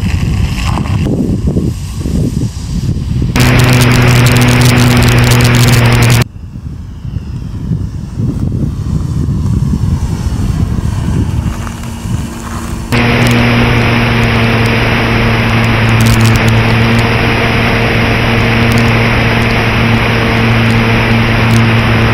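R/C rotor aircraft with a camera mount holding a RunCam, its motors whining steadily, cutting out abruptly, then a muffled rustling stretch before a loud, even high-pitched drone starts up again and holds.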